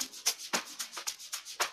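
A soulful amapiano-style drum machine beat programmed in Caustic 3 plays as a steady loop of crisp, brushy hits about every quarter second, with no voices.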